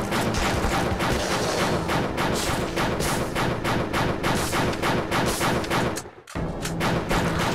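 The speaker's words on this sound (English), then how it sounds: "I'm just shooting." Nonstop rapid gunfire in the top-down shooter Crimsonland hammers along at a steady, dense rhythm with only one brief dip, loud and continuous throughout.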